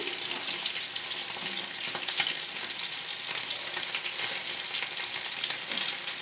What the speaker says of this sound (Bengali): এরকম করে সবগুলো চিকেনই আমি ভেজে নেব